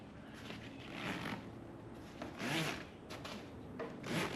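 The zippers on a Plano tackle bag are pulled open in several quick rasping strokes, close up and fairly quiet, with no one talking.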